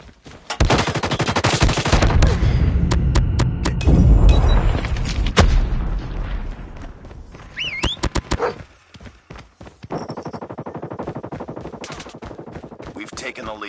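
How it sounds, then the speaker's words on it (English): Rapid automatic gunfire from a deployed sentry gun in the mobile shooter Call of Duty Mobile, loud sustained bursts mixed with other weapon shots and short electronic game cues, quieter fire trailing off toward the end. "Sentry gun deployed."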